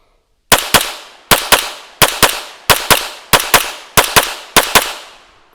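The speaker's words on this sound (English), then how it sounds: "I'm just gonna press the trigger" Seven pairs of sharp, loud gunshots from a handgun fired at a range, each quick double shot followed by a short pause, evenly spaced and ringing out alone.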